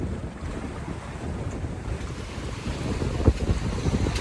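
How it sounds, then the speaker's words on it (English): Wind buffets the microphone over steady wash of choppy, confused waves against a sailboat's hull on open ocean, a continuous rushing bed with a brief louder slap near the end. "Waves are picking up a little bit. It's getting like choppy and confused."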